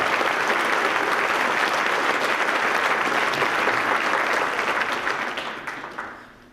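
Audience applause for students at a festival evening, a dense steady wash of many hands clapping that holds loud for about five seconds before fading out.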